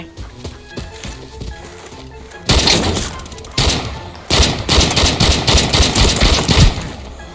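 Bursts of automatic gunfire ring out in the shooter game Arena Breakout, loud and close, with sharp rapid volleys after a quieter start, alongside scattered voices.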